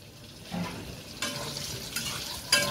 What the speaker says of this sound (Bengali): পটলটাকে একটু লাল লাল করে ভেজে নেব